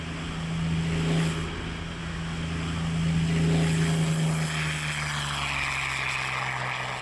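Yak-3 WWII Soviet fighter aircraft with its propeller engine droning steadily and loudly, a continuous low hum with a strong tonal pitch that swells and eases slightly as it passes.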